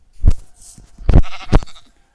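Three loud, close bleats from sheep in Minecraft, coming in quick succession with short pauses between them.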